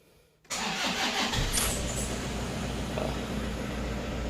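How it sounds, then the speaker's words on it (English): A car engine cranks and fires abruptly after a brief quiet moment, then settles into a steady, loud idle, recorded close by during an air-conditioning recharge. "I'm going to turn the engine on"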